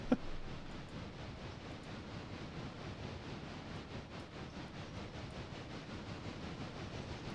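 Trains running in the Railroader game, a steady rolling rumble of rail cars with a faint rhythmic clatter that stays even and continuous throughout.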